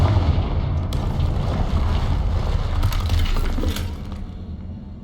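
A Bombarda spell blast in Hogwarts Legacy, a loud sustained crashing roar with shattering debris and clinking glass-like fragments, fading near the end.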